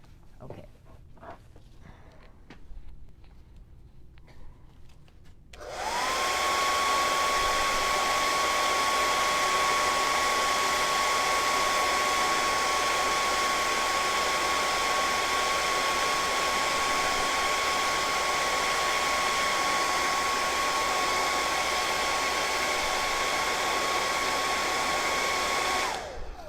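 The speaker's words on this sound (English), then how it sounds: "I'm going to hit this with the blow dryer really quickly." A hair dryer switches on after a few seconds of quiet handling noise and blows steadily and loudly for about twenty seconds, drying paint on a small vintage sled craft piece, with a constant whirring hum throughout.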